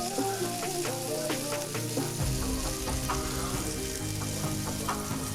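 A flipped patty melt fries on a hot griddle with a continuous, close, loud sizzle and crackle, plus occasional tapping from a utensil, and no speech.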